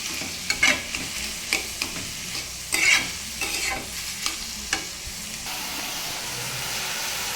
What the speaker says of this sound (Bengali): এখন এটাকে ভালোভাবে নেড়ে চেড়ে মিশিয়ে একটু ঢাকা দিয়ে দেবো